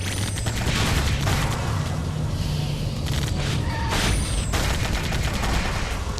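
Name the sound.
gunfire from vehicle guns in Sonic the Hedgehog 2006 video game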